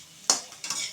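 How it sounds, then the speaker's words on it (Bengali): Pea lentil fritters frying in a pan are stirred with a utensil, giving two quick scraping strokes over a soft, faint sizzle, close and with no speech. "এটা ভাজা ভাজা করে নিতে হবে, বেশি ভাজা করাও যাবে না, নর্মাল ভাজা করে নেব।"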